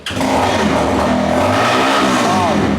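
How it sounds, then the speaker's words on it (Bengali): A used motorcycle engine runs loudly and steadily close by, its low rumble holding a constant pitch with a brief rising whine near the end. "এই যে ইঞ্জিনটার সাউন্ডটা শুনলে"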